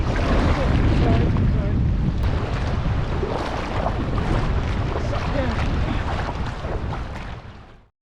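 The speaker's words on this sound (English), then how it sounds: "Got a really bad wind gusts, like I say 40 miles per hour." Strong wind gusts of about 40 miles per hour in the Boundary Waters Canoe Area buffet the microphone in a steady, rushing roar, swelling and easing slightly before cutting off abruptly.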